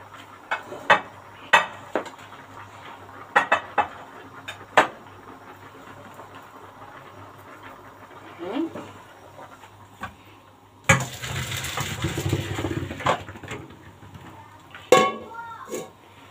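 Boiled pasta poured from a pot into a colander: scattered sharp metallic clinks and knocks, then a few seconds of steady rushing splash as water drains, followed by more clanks of cookware.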